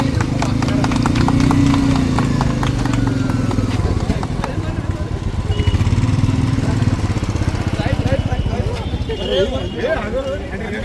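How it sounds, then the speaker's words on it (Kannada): Royal Enfield Bullet motorcycles ride in a rally, a steady close thumping engine rumble running throughout without a break, with other riders' engines blending in behind it. "ಜೊತೆಗೆ ಜಿಲ್ಲಾ ಪಂಚಾಯಿತಿ ಸಿಇಒ ರಾಹುಲ್ ಸಿಂಧೆ ಹೆಲ್ಮೆಟ್ ಹಾಕಿ ಬುಲೆಟ್ ಓಡಿಸಿ ಜಾಗೃತಿ ಮೂಡಿಸಿದರು."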